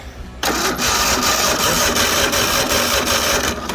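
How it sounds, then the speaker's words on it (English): Kohler V-Twin 24 horsepower engine being cranked over by its starter, a sudden onset of steady mid-pitched mechanical whirring and chugging that continues for a few seconds, close and fairly loud, with no talking. "So let's crank it over for you."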